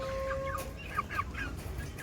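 A chicken clucks in short, quick bursts while pecking at grass, close and fairly loud over a soft background murmur.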